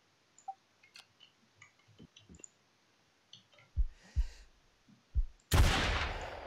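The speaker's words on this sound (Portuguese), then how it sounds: "Vou dar um tiro de snipe nele." Soft clicks and small taps lead into a few muffled thumps, then one loud, sharp sniper rifle shot in the video game The New Z bursts out near the end and rings briefly.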